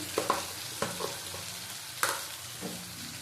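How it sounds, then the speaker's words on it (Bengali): Ripe mango chutney is stirred and sautéed in a pan over high heat, giving a soft sizzle with a handful of sharp scraping and stirring knocks, quiet and close, with no talking. "আঁচ বাড়িয়ে কষিয়ে নেব এটা"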